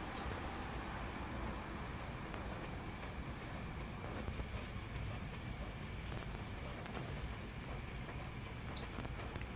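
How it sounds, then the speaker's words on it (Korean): Rain falls steadily on a rooftop garden of potted succulents, a dense, even patter with occasional sharper drips, soft and continuous throughout with no voices. "비가 막 떨어져"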